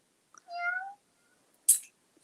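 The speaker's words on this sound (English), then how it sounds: "Oh, I see the other cat. Do you hear her?" A pet cat named Poofy gives a single clear meow, with a brief faint chirp just before it and a sharper, higher sound near the end; quiet indoor setting with no one talking.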